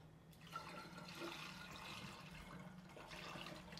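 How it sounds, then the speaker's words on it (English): Grape liquor pours too fast through a funnel, a steady rushing gurgle of liquid that runs continuously for a few seconds at close range, fairly quiet and unaccompanied. "Pouring it a little too fast into the funnel."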